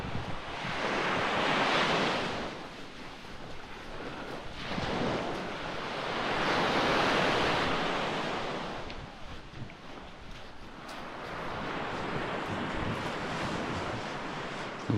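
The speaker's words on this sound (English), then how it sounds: "I'm coming up away from the sea because it's quite noisy" Sea waves rolling onto a beach early in the morning, loud and close, each swell building and washing away in slow surges about every four to five seconds, with wind noise mixed in and no voices.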